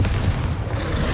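Confringo explosive spell blast in the Hogwarts Legacy video game, a dense booming burst of low rumble filling the short moment, loud and close with no talk.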